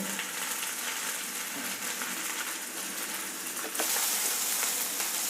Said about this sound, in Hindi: इसको हम पकने देंगे धीमी आंच में, जिससे कि भिंडी पक जाए अच्छे से